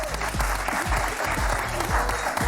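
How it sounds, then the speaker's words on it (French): An audience applauds during a French variety broadcast, a short burst of clapping with some low background sound underneath. "Vous pouvez les applaudir."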